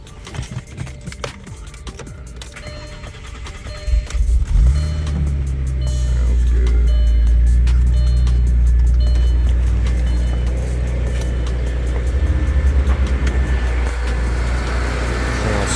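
An Audi Allroad with a stage 3 tuned engine, fresh belt and tensioner fitted, cranks and fires on its first start, then settles into a loud, close, steady idle with some revving pulses.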